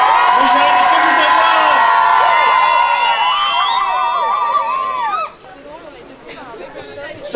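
A large crowd at a union rally against austerity cheers and shouts loudly for several seconds with whistles and cries, then drops to scattered calls and murmuring.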